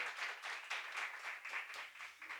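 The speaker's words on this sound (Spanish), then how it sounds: "Levántale ese aplauso al Señor." A church congregation claps in a quick, fairly regular rhythm, faint and somewhat distant, with individual claps standing out in a steady pulse.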